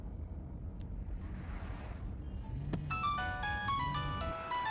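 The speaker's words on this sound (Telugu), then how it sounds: "అతను ఫోన్ రింగ్ అవుతుంది" A mobile phone ringtone goes off inside a taxi, a melodic electronic tune starting partway through and repeating over a low rumbling cabin background.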